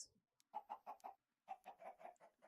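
Minecraft chicken gives two quick runs of short, clipped clucks, about four then six in rhythm, fairly faint and otherwise alone.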